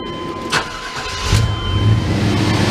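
A car engine cranks and catches during automotive R-134a air-conditioning service, settling into a loud, steady idle after a short burst; a faint high whine runs underneath throughout.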